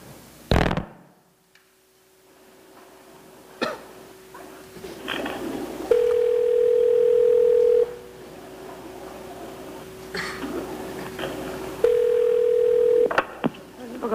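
An intercepted phone call carries a steady dial tone with two louder dialing or signal tones of about two seconds each, plus clicks and thunks from handling the line, with no voices.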